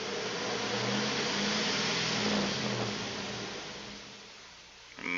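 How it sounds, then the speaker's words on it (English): LS1 V8 engine revving under a light throttle blip, a loud broadband roar that swells and then eases off, close by with a short mechanical rattle at the end. "give it a little bit of gas here"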